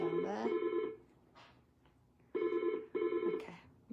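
A telephone rings in the background while someone works on a Zentangle tile drawing. The bright, buzzing ring comes in repeated short bursts with quiet gaps between them.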